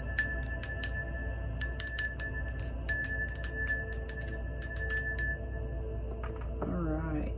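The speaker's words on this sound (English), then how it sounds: "We're going to start by ringing the bell" A bell rung to cleanse a space gives quick, bright dings in several clustered bursts, close and clear. A voice briefly begins speaking near the end.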